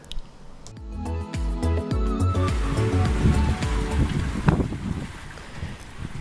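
A sailboat crossing the Pacific toward the Marquesas in southeast trade winds, with waves and swell washing around the hull amid gusty wind buffeting the microphone, a few knocks and creaks early on, no talking.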